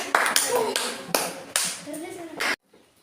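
Students in a junior high classroom give a short round of applause, a burst of scattered claps punctuated by sharper slaps, with overlapping chatter, stopping abruptly into near silence.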